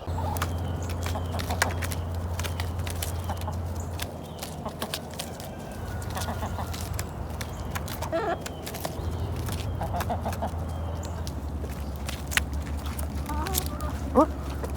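Backyard chickens cluck and call in a winter greenhouse while being tossed greens, a steady low hum running underneath and a person speaking now and then.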